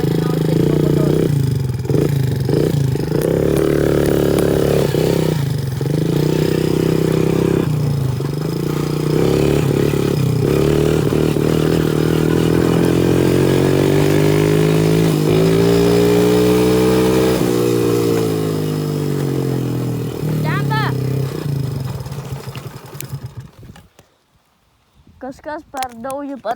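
A KMT X50R dirt bike engine revs loud and close while being ridden, its pitch rising and falling through gear changes for most of the ride before dropping off abruptly near the end, where rustling handling sounds follow.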